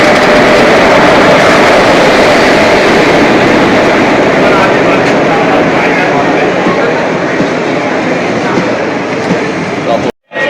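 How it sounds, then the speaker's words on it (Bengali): A Tapovan Express train arriving at Manmad station rumbles loudly and steadily for about ten seconds, a broad continuous roar with rail noise, then cuts off abruptly near the end. "আসছে তপবন এক্সপ্রেস মানমাদ স্টেশনে। আমাদের এবার এই ট্রেনে উঠতে হবে।"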